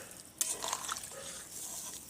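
Water poured into a pot of duck meat curry, a soft brief splash followed by a steady gentle trickling and gurgle of liquid, fairly quiet and close.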